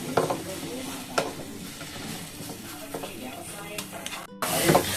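A spoon stirs kalakand, a thickening milk mixture with cardamom powder, in a pan, giving close scraping strokes and soft sizzling at a steady rhythm, with a louder scrape near the end.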